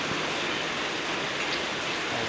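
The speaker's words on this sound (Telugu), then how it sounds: "వర్షం పడుతుంది" Steady rain pours down in a farmyard, a dense, even hiss with no pauses and no talk, fairly close and constant throughout.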